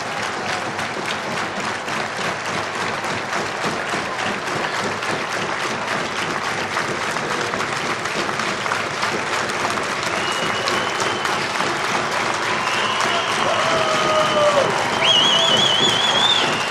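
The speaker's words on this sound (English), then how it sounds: "It was a nice touch by the fans to have the minute applause" Ice hockey fans give a sustained minute of applause, dense crowd clapping that fills the arena steadily, with some whistles and cheers rising near the end.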